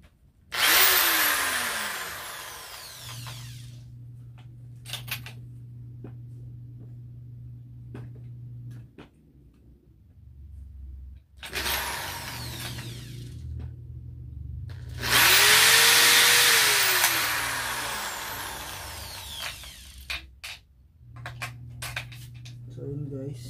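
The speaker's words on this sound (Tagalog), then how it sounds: "Drill ko na lang siya dito." A power drill bores a hole into an electric guitar in two loud whirring bursts with spinning-down pitch, separated by quieter handling; someone speaks between and over the drilling.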